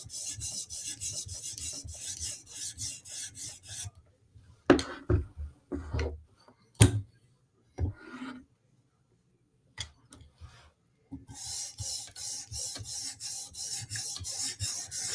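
Knife being stroked along a sharpening stone, rasping scrapes in quick runs at the start and end, with scattered single strokes and pauses in between, close and fairly quiet.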